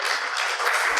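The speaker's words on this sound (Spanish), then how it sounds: "fuerte aplauso." Lecture audience applauding to welcome a speaker, a brief burst of dense, loud clapping from a crowd, cut short after about a second.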